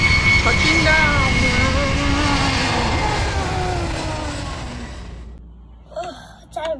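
A cartoon airplane takes off and touches down, a loud sustained jet engine roar with whining pitch sweeps that fades after about five seconds, followed by short voices.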